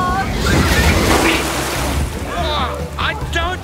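Rushing water pours over a waterfall in an animated show, a loud dense roar throughout, with a voice briefly exclaiming near the end.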